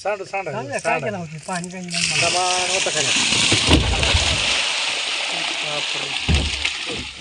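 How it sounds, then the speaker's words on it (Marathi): Water gushes out of a spilled barrel onto a floor in a loud, continuous rushing pour that follows a few seconds of people talking excitedly and keeps going under occasional voices. "अहो सगळं सांडलं पाणी"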